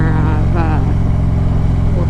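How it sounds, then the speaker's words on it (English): A Harley-Davidson Street Glide exhaust holds a loud, steady, deep throbbing rumble up close, with someone talking over the engine throughout. "you guys can hear my exhaust"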